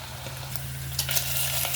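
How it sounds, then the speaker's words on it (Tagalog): Mung beans (ginisang monggo) sautéing in a pan give off a steady, close oil sizzle with light stirring scrapes over a faint low hum. "Ayan, gisa lang natin."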